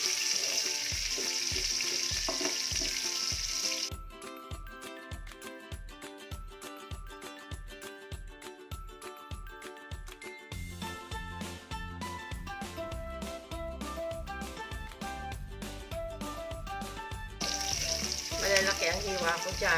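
Chicken and tofu sauté in a hot pan for sweet and spicy pancit canton, loud continuous sizzling broken by rhythmic stirring and scraping strokes, the frying swelling again near the end.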